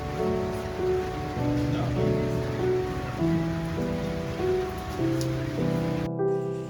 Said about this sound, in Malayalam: ഇവിടെ നല്ല മഴയാണ് ഗൈസ്. ഇപ്പോഴത്തൊക്കെ കായലാണ്, നല്ല മഴയാണ് ഇവിടെ.